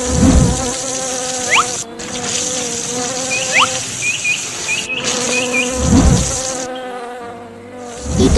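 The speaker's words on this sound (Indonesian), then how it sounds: "Dia mulai menyemprotkan air ke sarang lebah. Lihat bagaimana para lebah itu terbang menghindar dengan panik." Bees buzzing loudly as a water spray hits their nest, with sharp rising whines from individual insects darting past close by over a steady hiss of spraying water, a few heavier thumps breaking in near the start and end.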